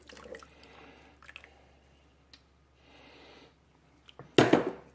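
Lye water poured into a soap mixture: soft, faint liquid trickles and drips, ending in a brief louder splash and sloshing burst near the end, with no talking.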